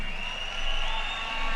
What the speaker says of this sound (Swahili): Wapigie makofi jameni.